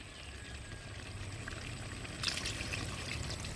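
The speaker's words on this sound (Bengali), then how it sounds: "এবার জল দিয়ে দেবো" Water poured into a pot of browned chicken curry with potatoes, a soft continuous liquid stream over background kitchen noise, brightening slightly toward the end, fairly quiet and with no voices.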